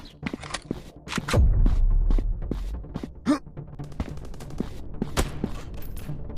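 Gunfire rattles in a first-person counter-terrorist shooter game, with close sharp shots and a heavy booming burst early on, followed by scattered single reports and bursts over a background hum.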